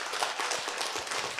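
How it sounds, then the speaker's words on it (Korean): A church audience applauds the pastors during a small-group seminar, a dense, steady patter of many hands clapping together throughout, moderately close and with no one speaking over it. "우리 목사님들 위해서 박수 한번 부탁드리겠습니다"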